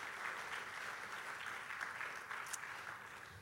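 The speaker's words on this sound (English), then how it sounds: "let's give them a round of applause and a warm welcome as well" Congregation applause welcoming performers before a church service, steady dense clapping throughout with no talk over it.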